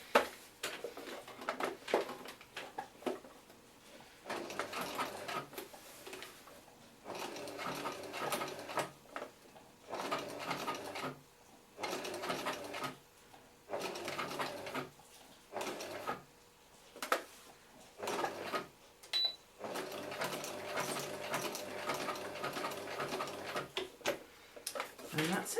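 A home sewing machine stitches through flag poi fabric in short stop-start runs of fast mechanical clatter, close by, with a voice talking between and over the bursts.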